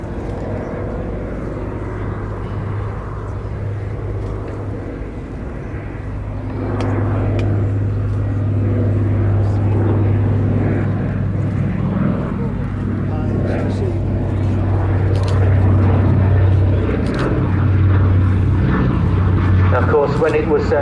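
An 81-year-old WWII-era aircraft passes during an airshow display at Southport, its engine a steady low drone building louder midway, heard under a commentator's voice.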